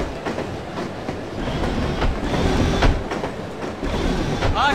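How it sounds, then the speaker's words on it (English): Steady train ride on rails in the video game No One Lives Forever, a continuous rumbling roll with rhythmic clickety-clack and brief wheel squeals, loud and close throughout with no talking. "love riding the train."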